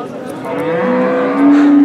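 A single cow lows in a long, drawn-out moo that swells louder toward the end, close by at a livestock market, with faint background noise.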